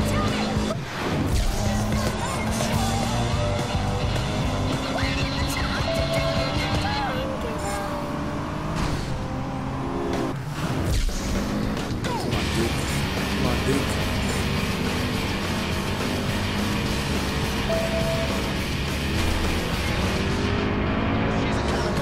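Car engine revving hard in the driving game Driver San Francisco, a continuous loud roar with pitch swells and occasional crunching impacts, with a voice talking over it much of the time.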